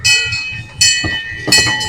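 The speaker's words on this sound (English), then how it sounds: "They got the train coming by." A train rolls past at Irvine Park with a rhythmic clatter of wheels over rail joints, loud and close, with a ringing metallic tone running through the passage.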